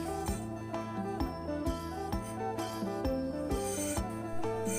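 Bamboo strips are scraped by hand to make a basket, giving a steady rhythm of short rasping strokes about twice a second over an even tonal background.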